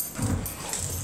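Airedale terriers play rough mouthing games, with a low growly grumble and a burst of scuffling near the start, then softer snuffly noises close by.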